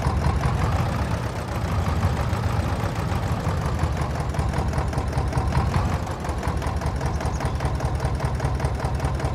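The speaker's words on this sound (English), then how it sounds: "sneak the tractor in over here" Tractor engine in Farming Simulator 22 on an old Polish farm, a steady loud mid-pitched idle with a rhythmic knocking chug running continuously, no voices.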